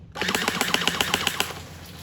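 An electric water gun fires in a fast rattling burst of evenly spaced pulses close by, the rapid shots running about a second and a half before tailing into a softer whir.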